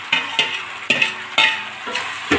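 Steamed cabbage tipped into a pan of sautéed beans, potatoes and green peas, stir-fried with five loud, evenly spaced stirring scrapes over a steady sizzle, no voices.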